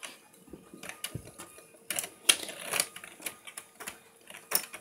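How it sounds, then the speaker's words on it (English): An old Texas Instruments data terminal prints letters over and over, giving quick irregular mechanical clacks and ticks with bursts of rattling print-head strikes, close and fairly quiet. "now it's gonna go ahead and proceed to print every letter in the alphabet over and over again"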